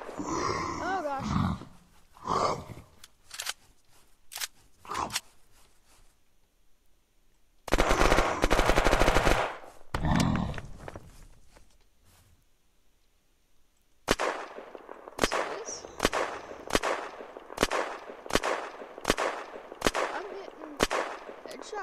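Gunfire in the video game Unturned during an earthquake boss fight: sudden loud bursts of shots, one dense volley in the middle, then a rapid run of sharp single shots near the end, with players talking between them.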